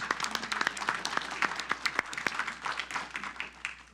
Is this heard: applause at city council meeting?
yes